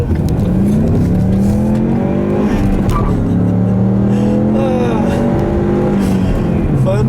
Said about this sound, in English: I'll leave you guys with a nice little acceleration here